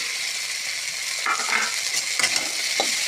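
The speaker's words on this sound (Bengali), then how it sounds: "নাড়াচাড়া করে মিক্স করে দেবো বন্ধুরা।" Chopped tomato and potato are stirred in a pan with fish, giving a soft steady sizzle under scraping spatula strokes that come in short bursts, close and fairly quiet.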